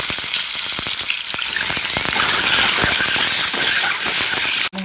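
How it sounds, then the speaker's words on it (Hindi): Eggs frying in hot oil crackle and spit loudly up close, a dense continuous sizzle peppered with sharp pops, ending in a brief knock. "तेल हमारा गर्म हो चुका है, हम इसमें अंडे फ्राई कर लेंगे।"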